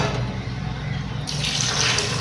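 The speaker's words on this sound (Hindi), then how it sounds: "1 गिलास ये भर के डाल दिया" A glass of water is poured into a beef biryani pot over ginger-garlic paste, a steady splashing gush that grows brighter partway through, close and continuous with no talk.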